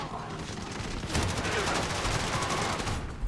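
Rapid gunfire in Call of Duty rattles in dense, fast bursts, loud and continuous through most of the stretch, with a player's voice faintly under it.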